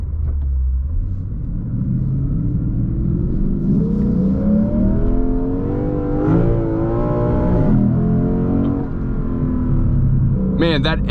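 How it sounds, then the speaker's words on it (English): A 2024 Lexus IS 500 F Sport Performance engine revs and pulls steadily under sustained load, its rising tone heard from inside the cabin with a loud, continuous rumble throughout. "Man, that engine note is incredible."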